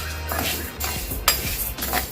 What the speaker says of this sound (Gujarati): હવે પહેલાં આપણે એને દાળ અને ચોખાને મિક્સ કરીને શેકી લઈશું ધીમા તાપે.